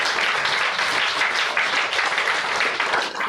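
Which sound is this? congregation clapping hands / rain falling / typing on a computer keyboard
congregation clapping hands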